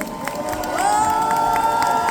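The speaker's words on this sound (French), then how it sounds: "J'aimerais qu'on les applaudisse très très fort également" A crowd at a cosplay contest in Le Mans cheers and shouts with excited whoops, swelling loudly midway, with scattered claps underneath.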